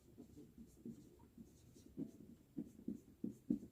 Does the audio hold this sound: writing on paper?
yes